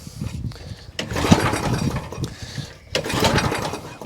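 An old barn-find lawn mower, stored for five years, cranking on its electric starter and catching into a rough, uneven engine run, with bursts of mechanical clatter and no talk over it.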